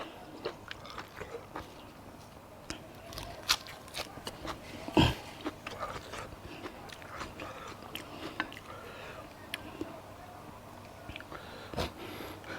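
Freshly cooked beef being eaten up close, with wet chewing and sharp crunchy bites breaking out irregularly over a low background hiss, one bite standing out loudest midway.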